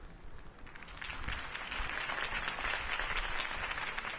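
A video game crowd breaks into applause that swells after a second and holds steady as dense, continuous clapping.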